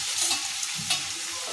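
Soft, steady sizzling of onions with whole spices frying in a pan with faint scraping as the contents are stirred.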